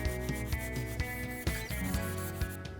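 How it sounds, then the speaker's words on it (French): Spiral sponge scrubbing stained garden furniture, a steady close rubbing with repeated strokes that swell and fade, continuous over low tonal hum and ringing. "avec un petit peu d'huile de coude, on frotte sur les parties très tachées avant de rincer"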